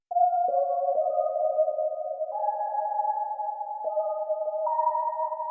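Alps synth preset from the Expand plugin in Pro Tools, a clean sustained tone stepping through a few held pitches, loud and alone with no voices.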